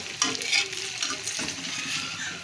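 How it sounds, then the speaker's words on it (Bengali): Continuous frying sizzle with scraping and stirring clatter of a spatula in a wok as vegetarian chow mein is stirred, steady and close, no voices. "ঠিক আছে নাড়াচাড়া করো"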